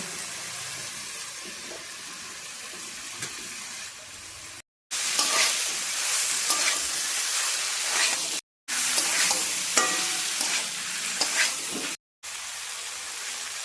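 Vegetables frying and being stirred in hot oil with fried curry leaves for veg idli, a steady close sizzle and hiss with scraping stir sounds, broken by a few brief silent gaps.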